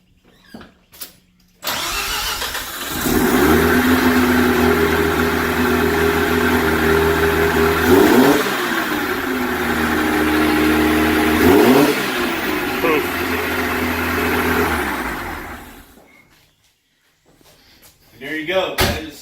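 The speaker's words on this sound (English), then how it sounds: "The car will start. I'll actually give you a startup on it." A Mazda RX-7 with upgraded LS coils cranks and catches, then idles loudly with two sharp revs before shutting off, followed by a brief muffled thump and another start near the end.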